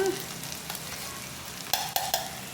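Okra (bendakaya) fries in a pan with a steady, soft sizzle while a spoon stirs it, giving a few brief scraping knocks near the end.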